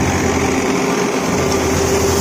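A tractor-driven punni thresher runs off the tractor's PTO, giving a loud, steady mechanical drone with a constant whirring hum and no pauses. Nobody speaks.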